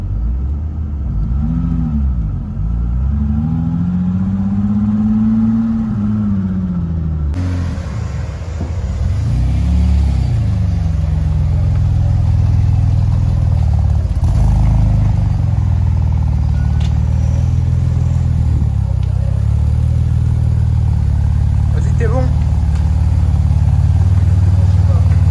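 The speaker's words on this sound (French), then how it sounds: "Vous pouvez le voir, la voiture arrache vraiment fort" Venturi 400 Trophy, a road-legal sports car with 408 hp, accelerating hard, its deep engine rumble rising and falling through the gears, loud and close throughout.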